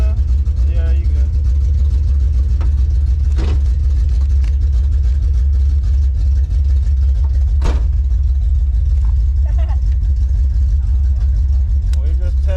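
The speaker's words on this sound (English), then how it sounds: "Guys, this car is super loud." El Camino engine with its carburetor turned up, idling loud and heavy with a constant deep low-end rumble close by, while people talk over it throughout.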